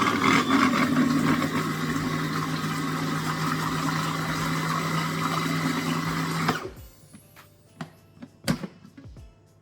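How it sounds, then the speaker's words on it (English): A blender blitzes keto pasta ingredients, including raw vinegar with the mother, in a loud steady whir that stops abruptly about two-thirds through, followed by a few light knocks and clatters. No one talks. "I'm just going to give this a quick blitz."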